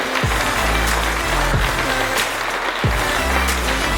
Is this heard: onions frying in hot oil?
no